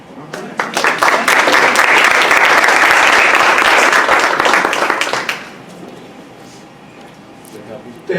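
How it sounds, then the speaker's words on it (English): A lecture audience breaks into loud, dense applause that holds steady for about five seconds before fading out to a quiet room. "Let's give him another round of applause."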